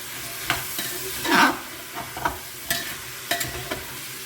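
Vegetables and onion for a veg pulao fry in a pan and are stirred: a soft sizzle runs underneath while a spoon scrapes in irregular strokes, one stronger scrape standing out, all close and without speech.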